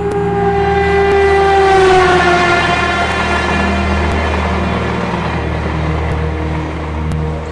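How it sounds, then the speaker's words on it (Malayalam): A train rolls past close by, loud and steady, with a long falling horn tone early on and a continuous rumble of wheels and carriages that eases slightly toward the end. "ഈ ട്രെയിൻ ഇങ്ങനെ പോണ കാണുമ്പോൾ"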